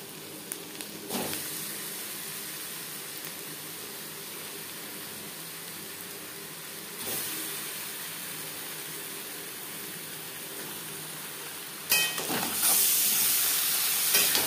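Marinated chicken sizzles in a pan with onion and spices, giving a steady, close frying hiss that swells louder near the end, with no talking.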